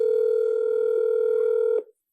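Telephone tone over a speakerphone, a single steady electronic tone held for nearly two seconds before cutting off abruptly into silence.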